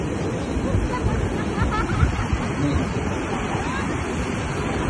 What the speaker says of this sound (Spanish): está fuerte el mar, está muy muy bravo